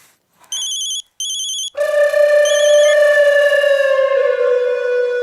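An electronic phone ringtone sounds in two short bursts, then a loud sustained melodic tone rings out alone, close and clear.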